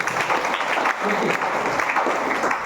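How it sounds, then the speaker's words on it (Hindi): A crowd at a meeting in a hall breaks into loud, dense clapping that holds steady throughout, with voices mixed into the applause. "एक बार 2 ताली होना चाहिए।"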